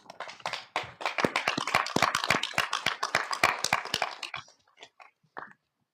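Applause at a city council meeting after a unanimous vote, with sharp hand claps starting together, rising to a dense burst for about four seconds, then thinning to a few scattered claps before silence.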